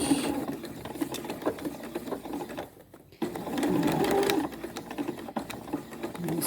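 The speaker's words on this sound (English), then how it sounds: "Put your needle right at the edge of the fabric." A home sewing machine runs a seam along the edge of fabric for a drawstring bag, its steady fast motor hum and needle clatter filling the clip, broken by a short pause before stitching resumes.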